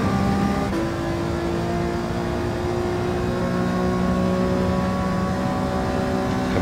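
An Alfa Romeo 155 Gr.4 race car in Gran Turismo 7 on the reversed Sardegna A circuit accelerates under full power out of a corner, its engine note climbing in steady harmonic tones, loud and continuous throughout with no talk.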